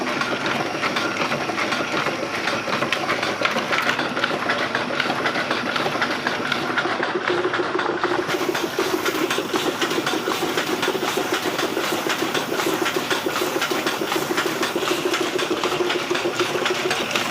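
A Dakat printing machine runs off brochures and wedding cards with a steady, fast mechanical clatter, a continuous rhythmic chugging that stays loud and even throughout, with no talking.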